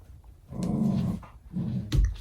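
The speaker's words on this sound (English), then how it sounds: "Every single night, Cooper comes over here and growls at himself in the mirror." A dog growls at its own reflection in a mirror indoors, two low, rumbling growls of about a second each, close and fairly loud, ending in a short huff.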